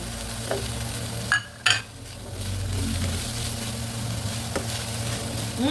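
Chicken sautéing in a pan with garlic and onion, a steady sizzle running throughout with a couple of brief louder stirring scrapes and clinks of a utensil against the pan, no talking.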